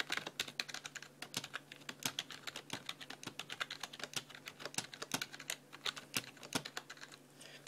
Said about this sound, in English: So yeah, this is just me typing.